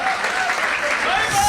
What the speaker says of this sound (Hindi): थोड़ी तालियां बजाई, मजा नहीं आया साहब